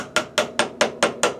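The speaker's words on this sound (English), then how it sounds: "I'm doing it with a steel mallet hammer" A steel mallet hammer taps gently on the metal edge of a fitting on a drawknife handle, six sharp, evenly spaced strikes in quick succession, close and clear with no speech.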